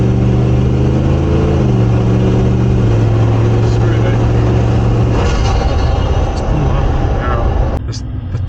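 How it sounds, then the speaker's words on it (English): Big-turbo Novogen Land Cruiser engine and exhaust drone steadily from inside the cabin at a car festival, a loud low tone with shifting pitch running under people talking. "Tone, listen to the tone, the exhaust."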